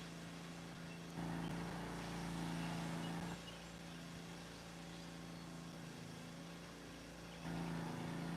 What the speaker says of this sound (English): I think weed eating is a lot louder than a lawnmower.